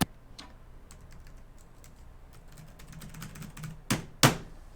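Fingers tap on a computer keyboard in quick, light clicks, with a few louder, sharper keystrokes toward the end.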